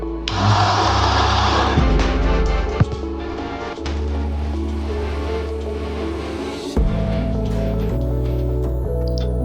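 Macap Labo 70 coffee grinder grinding coffee beans: a loud, steady motor whine with gritty crunching that runs nearly continuously, with a brief dip and a few sharp clicks midway, close to the microphone.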